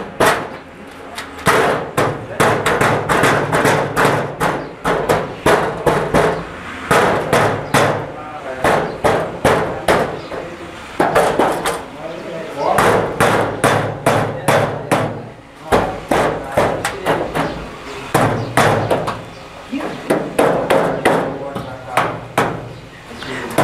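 Repeated hammer blows in quick bursts ring out while window frames, a casement and a louvered shutter, are fitted into the walls of a house under construction, with pauses between volleys and voices heard between them.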